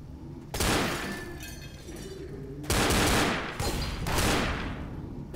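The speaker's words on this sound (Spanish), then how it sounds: "Si yo disparo a cualquier lado, ellos disparan." Gunfire in the zombie shooter game Left 4 Dead, loud bursts of rapid shots in three separate volleys with short pauses between them.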